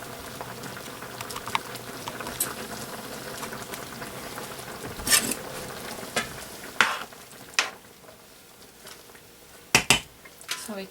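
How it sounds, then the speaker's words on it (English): A pot of Hamburger Helper made from scratch bubbles at a boil on a home stove, a steady low simmering hiss punctuated by a few sharp clinks of pot, lid and utensils nearby. "now it's boiling."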